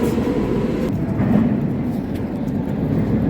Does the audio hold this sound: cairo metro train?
yes